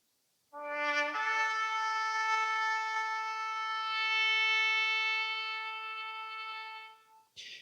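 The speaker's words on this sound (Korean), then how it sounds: "테키아라는 그 소파를 부는 방법이 있습니다" A single long, steady shofar blast (tekiah) sounds alone, rich and brassy, swelling slightly midway before cutting off near the end.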